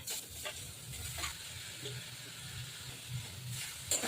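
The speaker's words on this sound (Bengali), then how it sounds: "এবার এর মধ্যে গ্রেট করে রাখা বিট আর গাজর দিয়ে দেবো।" Grated beetroot and carrot fry in a pan, giving a soft, steady sizzle with brief stirring scrapes, close and moderately quiet, with no talking.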